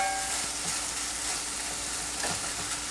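Andouille sausage sizzles steadily in a pot while gumbo is made, a continuous close, bright frying hiss with faint clicks of a utensil and no talking.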